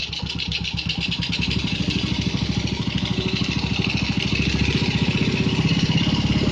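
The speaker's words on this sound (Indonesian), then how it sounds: "Kita nyalain dulu mesinnya. Nah, oke, ini dia, kita kencengin dulu setelan idle-nya." A 2003 Yamaha Jupiter Z motorcycle engine idling close by while its idle setting is adjusted, a steady, even putter with a fast regular beat and a slight rise in pace toward the end, no talk.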